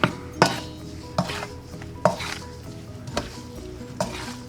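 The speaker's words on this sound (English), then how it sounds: "we're going to sear our lamb in some vegetable oil that we've preheated in the pan" Lamb pieces searing in preheated vegetable oil in a pot for lamb stew: a steady, moderate sizzle broken by regular metallic clanks and scrapes as the meat is stirred about, with no talking.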